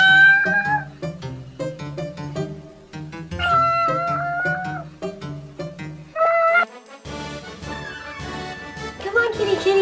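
A cat meows repeatedly in short, tonal calls spread across the clip, fairly close and clear, with a person's voice coming in near the end.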